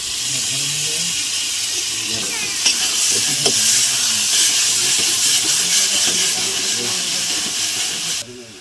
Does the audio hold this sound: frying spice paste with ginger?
yes